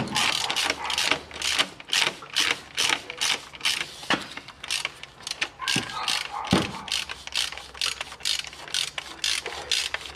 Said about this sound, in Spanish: Metemos una llave 8 de Allen. Aflojamos el tornillo.